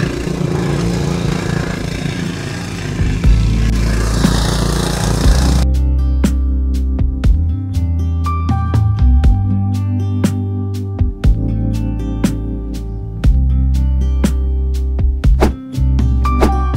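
Mini hand tractor (FTL900H/FTL500H single-axle) running a rotary tiller in second gear through a dry field: steady loud engine drone with churning rumble, sharp clattering ticks and knocks throughout, fairly close.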